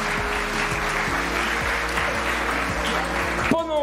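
Spectators clap at the end of a match at the French Robotics Cup finals, a steady wash of applause under tonal hum and rhythmic thuds, with voices mixed in and a brief whistle-like tone at the end.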